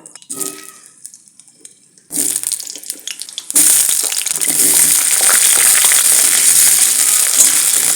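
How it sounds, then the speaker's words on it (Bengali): Potatoes fry in hot mustard oil in a wok: a few quiet kitchen clatters, then a burst of noise, then a loud, steady, hissing sizzle filling the rest of the time. "তেল গরম হয়ে গেছে আলুটা ভেজে নেব"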